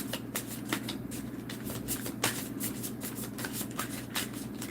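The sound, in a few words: shuffling tarot cards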